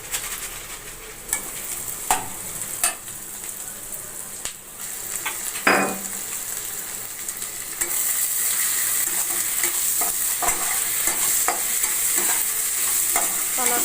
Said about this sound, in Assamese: পিঁয়াজখিনি এতিয়া লাহে লাহে ভজা হৈছে